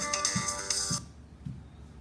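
A phone ringtone plays a bright electronic melody for about a second, then cuts off, leaving faint room sound.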